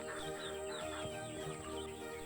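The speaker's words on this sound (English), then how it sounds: "This is my favorite chicken." A farm chicken hen clucking softly over a steady background hum, with bird calls mixed into the dense, continuous ambience.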